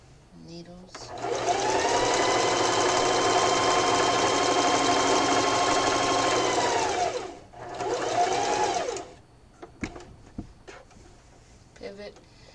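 A sewing machine stitches fabric for a Valentine pillow in a long steady whirring run, then a shorter burst after a brief pause, loud and close, with soft handling noises afterward.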